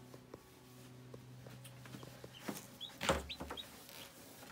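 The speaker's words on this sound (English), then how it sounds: "here we have 20 chicks" Newly hatched chicks of mixed white, black and silver colouring in a plastic storage-container brooder give soft, scattered peeps and chirps with a few light scratching steps, faint and close.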